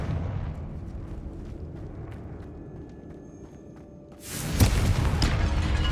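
A Confringo fire spell explodes in Hogwarts Legacy inside a tomb, a sudden loud blast with a rumbling tail that rises over steady low game ambience.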